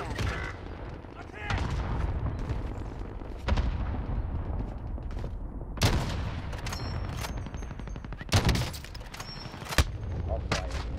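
Gunshots ring out in Call of Duty Rebirth Resurgence, scattered sharp cracks and short bursts over a steady background rumble, with voices talking through the firefight.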